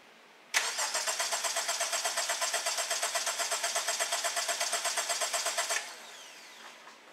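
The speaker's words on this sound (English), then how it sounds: "So I'll go ahead and do the crank no start now." A 2019 Honda Civic with a misfire cranks without starting, the starter churning in a fast, even rhythm for about five seconds before stopping, close and clear with no talk.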